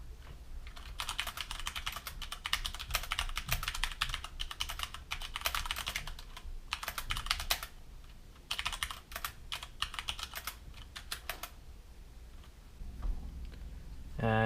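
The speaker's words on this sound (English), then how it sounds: "So I'm just going to type a few words here" Steady typing on a Magicforce Qisan 68 mechanical keyboard with Cherry MX Brown switches, a dense run of close, crisp key clacks with brief pauses, ending in a short beep-like tone.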